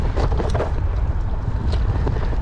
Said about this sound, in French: il y a un petit vent de face aujourd'hui